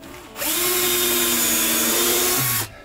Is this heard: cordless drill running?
yes